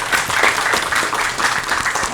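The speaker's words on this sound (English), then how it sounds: "Round of applause, please, for everybody." An audience at a reunion show applauds the participants, a loud, even wash of clapping that stays steady for about two seconds.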